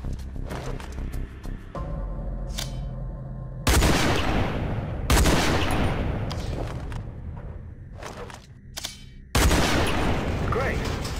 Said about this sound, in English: Then aim down the scope to shoot the targets.